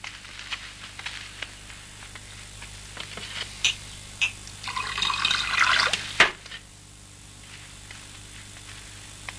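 Water pours and splashes in a short burst that swells and then stops abruptly, with scattered drips and taps before and after against a quiet background.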